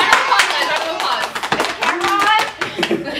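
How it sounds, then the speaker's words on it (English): A round of applause from a small group opening a casual home show, with dense overlapping claps filling the clip and voices mixed in. "Round of applause."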